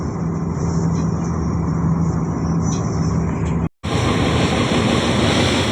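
Ocean waves and wind rush steadily around a fishing boat under way near mountains, a loud continuous wash with a brief cut partway through.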